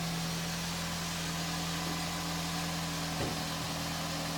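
A 2015 Nissan Rogue's 2.5-litre four-cylinder idles with a low, steady, quiet hum, unchanging throughout, with no voices.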